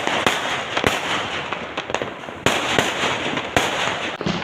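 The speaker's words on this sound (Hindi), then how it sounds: "रॉकेट जला रहा" Diwali fireworks and rockets go off nearby at night, sharp loud cracks and bangs at irregular intervals over a constant hiss and crackle of burning fireworks.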